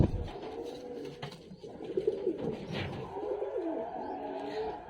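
Soft, repeated pigeon cooing from a pigeon cage rolls along at a moderate distance, continuous through the stretch with faint background bird chatter.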